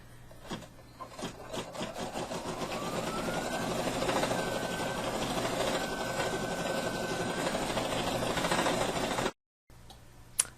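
An embroidery machine stitches a free-standing lace angel with a steady, continuous mechanical whir and rapid needle chatter, running unbroken at moderate volume before a brief cutoff near the end.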